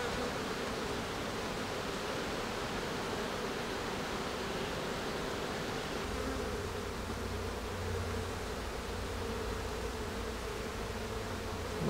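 Honeybees humming densely around hive frames in an apiary, a continuous even buzz filling the scene with no talk.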